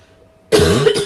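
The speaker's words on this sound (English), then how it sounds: "Oh my goodness, I can't believe I'm having a coughing fit." A sudden harsh cough bursts out after a half second of near quiet, loud and close, a single rough fit of coughing.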